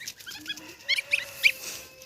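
Geese honk in a farmyard, a string of short nasal calls near and fairly loud, with a few sharper cries in the middle and no talk over them.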